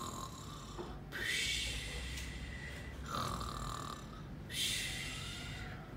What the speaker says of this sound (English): he started to snore